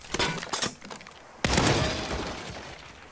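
Gunshots in the video game Saints Row, a few sharp cracks followed by one louder blast whose noisy decay rolls on for over a second.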